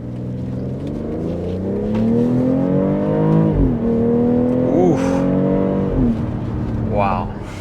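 A BMW iX xDrive50 electric SUV in sport mode accelerates hard, its rising synthetic whine and tonal motor sweep climbing loudly from inside the cabin, with a brief voiced exclamation.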